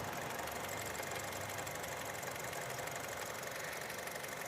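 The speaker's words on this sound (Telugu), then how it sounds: "చాలా ఇంజిన్ చాలా స్మూత్, స్టార్ట్ చేసినట్టే లేదు సార్" A 2019 Honda City V manual with about 33,000 km on it idles steadily, a faint, even engine hum with no knocks or revving and no voices.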